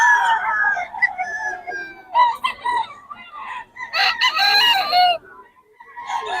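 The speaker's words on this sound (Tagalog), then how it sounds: "Gaganda ng mga manok ni Boss Christian ngayon" Several roosters crowing one after another at a Bocaue poultry flea market, loud close cock-a-doodle-doo calls overlapping with clucking between them.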